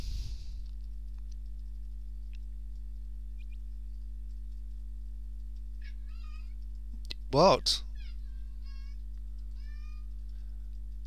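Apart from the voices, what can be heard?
cat meowing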